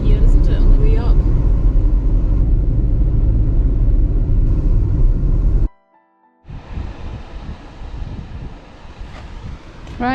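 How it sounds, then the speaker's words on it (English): Car engine rumble with heavy wind buffeting on the Isle of Skye in December, loud and steady as the car pulls in and parks, cutting out briefly before outdoor wind and rumble resume. "Right, I've just parked the car there."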